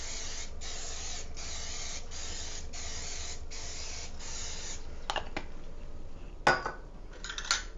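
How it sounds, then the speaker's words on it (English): Cooking spray hisses from a can onto a mini loaf pan in a steady, closely heard series of short bursts, followed by light metallic clinks of the pan. "I have my mini loaf pan here. I'll spray it down."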